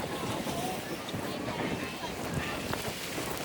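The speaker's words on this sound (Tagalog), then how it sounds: "Tumatama sa mukha ko yung tubig galing sa waves." Sea waves on the rocky Yehliu Park coast in Taiwan wash in as a steady broadband roar, blended with gusty wind buffeting the microphone.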